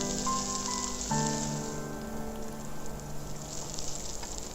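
Green chillies hit a hot pan in a steady, close sizzle with a brief tonal ring near the start, no voices.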